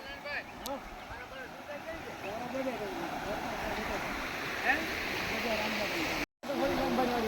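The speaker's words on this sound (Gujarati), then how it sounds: "પાણી ઘુમરિયું મારે છે રોડ રસ્તે" Floodwater from the overflowing Ozat river rushes over a village road, churning steadily and loudly close by, a broad continuous roar with a brief dropout near the end.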